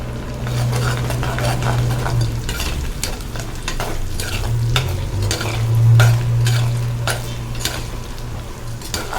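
Crushed garlic is stirred into a fish curry simmering in a clay pot, giving a steady bubbling sizzle broken by repeated scraping strokes of a spoon against the pot.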